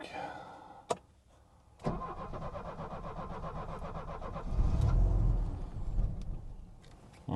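A cold car engine, just back from repair, cranks with a rapid rhythmic whirring of the starter for several seconds, briefly catches with a low rumble, then dies without starting, recorded up close.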